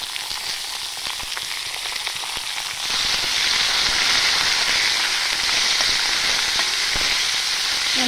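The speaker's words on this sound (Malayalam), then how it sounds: "അത് നന്നായിട്ട് ഇട്ടിട്ട് ഒരു ശകലം ഒരു നുള്ളു ഉപ്പും ഇട്ട് നമുക്ക് നന്നായിട്ട് വഴറ്റാം" Onions and shallots sauté with a pinch of salt in a pan over high flame. A steady close sizzle becomes louder and denser partway through, with faint stirring clicks and no speech.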